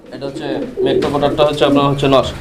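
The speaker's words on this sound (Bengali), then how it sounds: "চমৎকার একটা ম্যাকপাই পোটার ব্ল্যাক কালার" A black magpie pouter pigeon coos softly in a market setting while people talk over it, the low throaty coos mixed under and between the voices.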